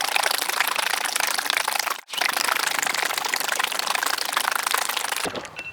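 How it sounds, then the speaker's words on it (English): A bottle of Valvoline VR1 synthetic motor oil is shaken hard and fast, a steady rhythmic sloshing rattle that runs without a break apart from one short pause partway through, with no talking over it. "Let's shake it up and see what happens."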